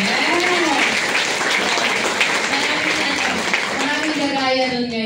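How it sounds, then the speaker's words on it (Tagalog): A crowd applauds at a network business event, a continuous wash of clapping running under someone speaking loudly over it. "Kasi grabe yung palakpak nila eh"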